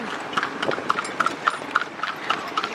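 A horse pulling a kalesa carriage through the streets of Vigan, hooves clip-clopping in a steady, even rhythm on hard pavement, close and distinct with light background ambience.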